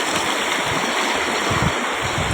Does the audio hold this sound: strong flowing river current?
yes